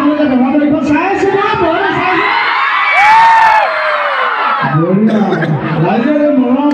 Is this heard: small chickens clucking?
no